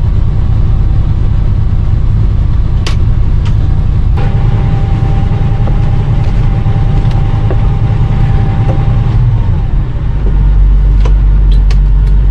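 An RV engine, choked fully for only a split second, runs loud and close with a steady low rumble and a shift in tone near the end, no voices over it.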